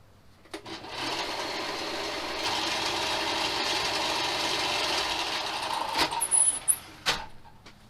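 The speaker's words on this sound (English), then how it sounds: "took the foam rubber in this area to the belt sander and belt sanded it down" Belt sander grinding down the edges of foam rubber on a homemade Tesla Model 3 steering wheel, a steady close whirring drone for several seconds that ends with a few brief bursts as the piece is worked.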